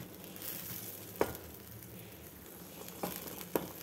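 Onion gravy frying in a pan gives a quiet, steady sizzle broken by a few sharp crackles and pops, with no voices.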